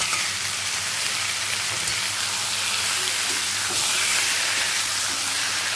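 Taro leaves and chopped green chilli sizzle steadily in a hot pan, a continuous close frying hiss with occasional crackles and no talking.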